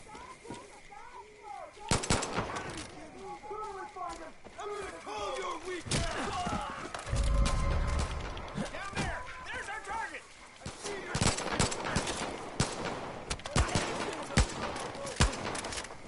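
Gunfire in a Far Cry 5 fight with cultists: bursts of sharp shots and cracks, some in rapid clusters, over busy game ambience with bird-like chirps and a low rumble mid-way.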